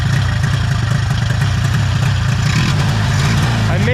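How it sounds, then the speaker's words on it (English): An Arctic Cat Panther snowmobile engine with a Mikuni carburetor idles loudly and steadily up close, a continuous low pulsing rumble with no talk over it. "Yeah, it's alive and running and idling."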